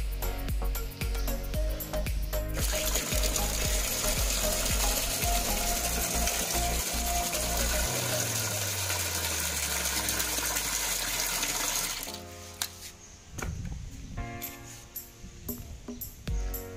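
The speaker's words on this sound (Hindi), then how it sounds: "तो चलिए इन पौधों में पानी डालते हैं।" Water gushes and splashes steadily onto potted plants for several seconds, then thins into intermittent trickles with faint mechanical clicking.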